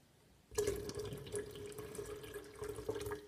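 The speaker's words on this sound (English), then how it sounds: "I add cold water." Cold water runs from a tap into a kettle, starting abruptly after a brief quiet moment and continuing as a steady, close splashing stream.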